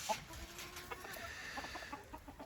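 Hens cluck in a backyard hobby coop, soft repeated clucks and murmurs at close range over a steady background hum.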